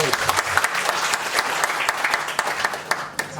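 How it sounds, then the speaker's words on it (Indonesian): Congregation at a church worship service applauding, dense steady clapping from many hands filling the room for a few seconds without speech. "Tepuk tangan buat ini."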